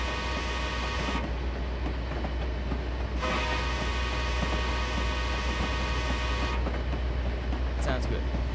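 Amtrak Vermonter passenger train in Train Simulator 2020 running steadily near Springfield, Massachusetts, a constant low engine rumble and rail noise with broadband hiss, a few soft clicks near the end, with a voice talking over it.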